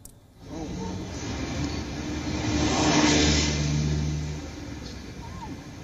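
Cars and buses queue and drive during an evacuation from Donetsk toward the Russian border, a continuous engine rumble and hiss swelling as a vehicle passes close, then easing off.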